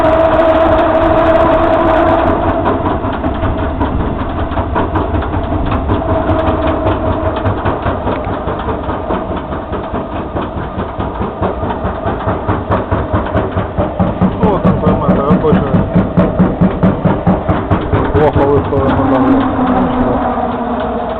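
An experimental electric drive runs a honey extractor, making a loud, close mechanical hum with a fast, rhythmic pulsing beat that grows more pronounced midway and continues steadily throughout.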